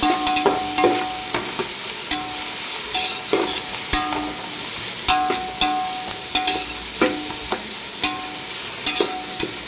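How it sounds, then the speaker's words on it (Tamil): Tomatoes sauté in a pan for a goat head curry, a continuous sizzle under repeated metallic scrapes and taps of a spoon stirring at an uneven rhythm, close and clear without speech. "தக்காளி சேர்த்து நல்லா வதக்கிட்டு"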